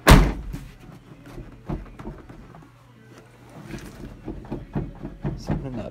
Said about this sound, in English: you could actually hear the noise of this door really bad